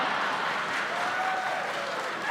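An audience at a live ketoprak humor comedy show breaks into sustained, loud, even applause, a dense wash of clapping with no voices over it.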